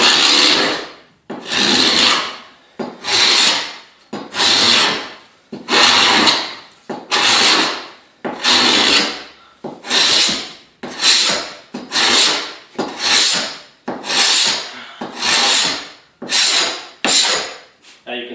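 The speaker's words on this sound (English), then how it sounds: "All I'm using here is a scraper. Just a paint scraper, a pole scraper." A pole-mounted paint scraper scrapes old vinyl and adhesive off a hardwood floor in a steady run of rasping strokes, each a loud scrape followed by a short pause, repeated about a dozen times close by with no talking.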